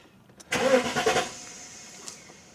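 A Mercedes S500 Coupe engine cranks and catches once, a close, loud start that settles quickly into a quieter idle.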